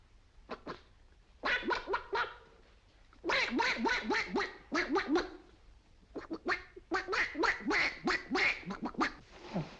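A man imitates a duck's quacking with his voice, giving a long string of rapid nasal quacks in several bursts separated by short pauses, close and fairly loud, with no other talk.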